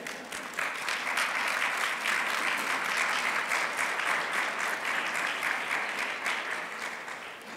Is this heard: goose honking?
no